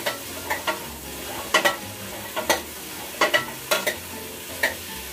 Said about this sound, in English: You can stir the carrots or mix well.